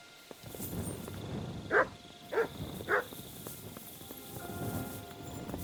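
A dog in the medieval role-playing game Kingdom Come: Deliverance II gives three sharp barks about half a second apart, standing alone against a low hum of in-game ambience.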